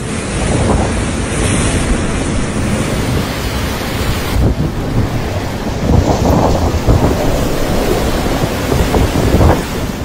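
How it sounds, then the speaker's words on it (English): Fierce wind gusts and heavy rain from Hurricane Fiona on Puerto Rico make a loud, continuous roar with surging, noisy swells and no voices. "caused heavy rain and fierce gusts of wind on the island"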